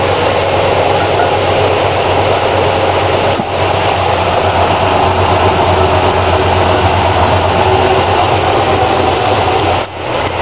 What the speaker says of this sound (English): 318 2-barrel. Best Mopar engine ever.